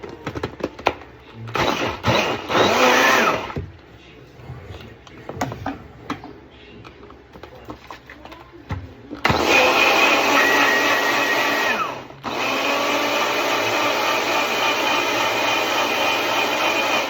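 A blender blending malunggay leaves whirs loudly in bursts, starting and stopping, then runs in a long steady high-pitched roar, close by with no talking.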